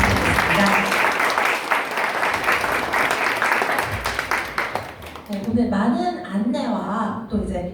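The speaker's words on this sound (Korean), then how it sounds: "여러분 뜨거운 박수와 함께 축하 부탁드리겠습니다" Audience applause at a company New Year kickoff ceremony, a sustained wash of clapping that fills the first five seconds, then eases as voices and a host's speech come through over the fading claps.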